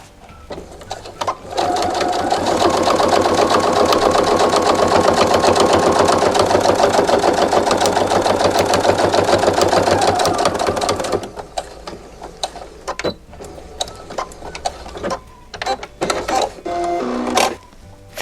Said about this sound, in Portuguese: Fez a costura rebatida no bolso